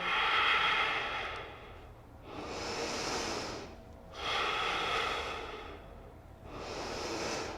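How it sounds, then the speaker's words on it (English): Slow, even breathing in Reclined Hero Pose: four long, airy breaths in a steady rhythm, close to the microphone, with no talking. "Take a couple of breaths here."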